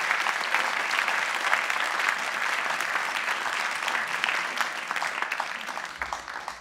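An audience at a prize ceremony for the Gland New Economy Prize applauds a winning company being called up. The full, sustained clapping stays strong throughout and thins slightly toward the close.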